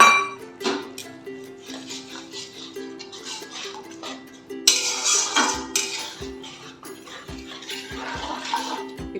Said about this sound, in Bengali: এবার আমি বাটি ধুয়ে জলটা দিয়ে দিচ্ছি।